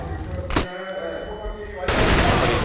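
Gunfire in a Counter-Strike match, sharp close shots and a dense burst near the end, heard under fast, excited commentary.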